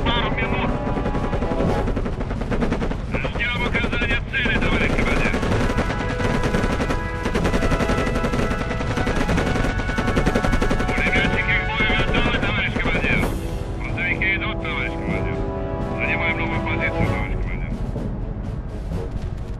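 Machine guns rattle in Panzers Cold War, dense continuous bursts layered with overlapping rapid fire and occasional heavier blasts, loud throughout with a droning aircraft-like hum underneath.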